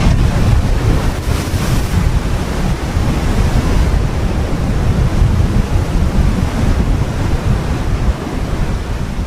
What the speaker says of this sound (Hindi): गार्डन रूट के जंगल समुद्र तट तक फैले हैं, जहां तेज लहरें टकराती हैं।